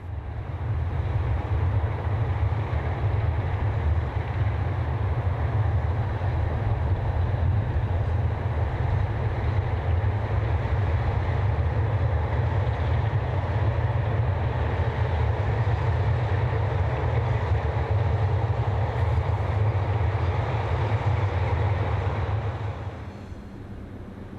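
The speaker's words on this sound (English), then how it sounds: "haul this container train over one of the numerous waterways" Belgian Class 76 locomotives haul a container train across a waterway, a loud, steady rumble and rolling drone held for over twenty seconds before easing off at the end.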